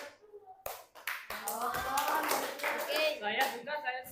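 Rhythmic hand clapping from a group doing a numbered clap-count icebreaker, steady and fairly loud, with voices speaking and calling out over the claps.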